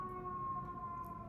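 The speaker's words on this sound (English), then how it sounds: "Sorry for the sirens" An emergency vehicle siren wails steadily outside, a faint, distant sustained tone held for a brief moment.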